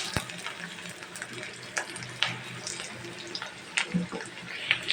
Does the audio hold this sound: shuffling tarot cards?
no